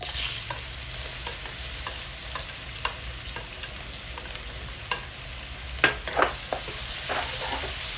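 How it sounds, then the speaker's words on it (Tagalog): Garlic and onion sauté in oil with a little flour, making a steady crackling sizzle broken by sharp clinks and scrapes of a utensil stirring the pan, heard up close with no talking. "Magigisa na tayo. Binawasan ko yung mantika pero nandyan yung harina. Hindi ko na tinanggal. So pagsabayin ko na tong bawang at sibuyas."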